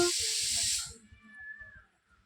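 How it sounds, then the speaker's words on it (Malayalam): Up close, a cat gives a loud, harsh hiss lasting about a second, then a thin, wavering meow that fades away. "ഓ പൂച്ച വരുന്നു"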